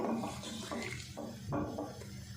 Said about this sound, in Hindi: 3 गिलास पानी मैं इसमें ले रही हूँ।